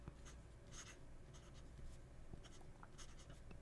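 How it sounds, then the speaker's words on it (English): A Jinhao fountain pen fitted with an architect-style Japanese grind nib scratches across paper, a soft continuous scraping with faint brief strokes, close and quiet, no talk. "Can't get used to writing with this nib."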